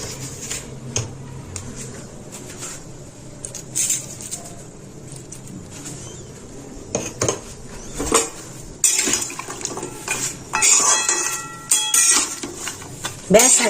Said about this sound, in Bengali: এবার এটা ভালোভাবে মিশিয়ে নেব